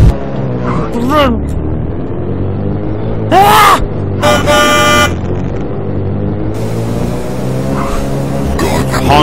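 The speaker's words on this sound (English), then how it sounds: "That was a delayed honk." Car horn honks in the horror video game Dead End Road, loud nasal blasts sounding in short bursts over a rumbling vehicle engine, with game noise around and a voice reacting between honks.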